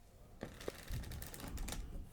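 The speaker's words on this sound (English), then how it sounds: "I'll give the deck a shuffle." Playing cards shuffled close up during an ASMR card magic routine, a quick run of crisp riffling clicks and flutters with a short sharper burst near the end, no talking.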